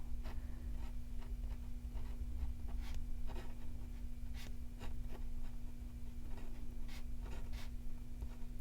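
A pen scratches across Plum Paper planner paper in short, quiet strokes, an intermittent close-up writing sound over a low steady hum.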